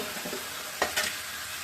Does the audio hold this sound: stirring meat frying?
yes